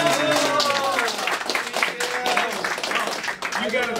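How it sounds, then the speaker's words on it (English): A supporters' gathering in Seattle applauds Steve, with continuous loud clapping and cheering voices filling the room for the whole stretch. "Let's give him a round of applause."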